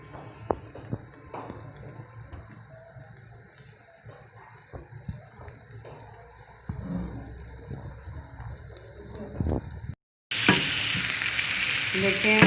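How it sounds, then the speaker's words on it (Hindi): Three onions being lightly sautéed in a pan as stuffing for stuffed tinda, a soft steady sizzle with occasional stirring clicks, ending in a sudden louder, hissing burst of frying. "3 प्याज हैं, इसको हमने सिर्फ सौते करना है"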